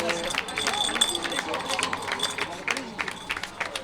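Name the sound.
crowd applauding arriving children at a cycling event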